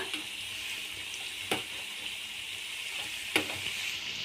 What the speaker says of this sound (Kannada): ಈಗ ನಾವು ಪಕೋಡಗಳನ್ನು ಹಾಕ್ಕೊಳ್ಳೋಣ ಒಂದು ಕಡೆ ಫ್ರೈ ಆದ ನಂತರ ನಾವು ಮತ್ತೊಂದು ಕಡೆ ತಿರುಗಿಸ್ಕೊಳ್ಳೋಣ